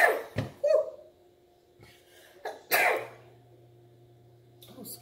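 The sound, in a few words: sneeze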